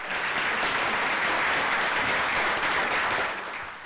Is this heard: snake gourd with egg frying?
no